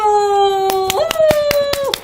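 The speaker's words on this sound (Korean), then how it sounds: "박수!" Children clap during toy hamburger-shop play, with about half a dozen sharp hand claps over a sustained toy melody, close and fairly loud.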